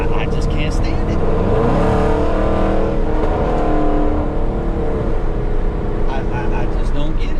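A cammed 5.7 Dodge Challenger R/T muscle car engine gives a loud, continuous, choppy rumble with rising and falling revs, heard up close.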